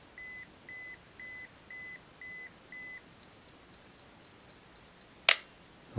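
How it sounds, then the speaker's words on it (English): An Olympus XA2 35mm film camera's self-timer beeps in a steady rhythm of about ten short tones; partway through the pitch changes to a different tone, then a sharp click. "use that self-timer. Okay, there it is, beeping"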